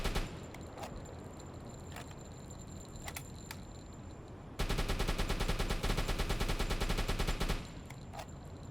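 Deck gun of a WW2 submarine in the UBOAT game firing high explosive shells: a few sharp reports early on, then a loud, dense burst of rapid booming fire lasting about three seconds before fading back to low ambience.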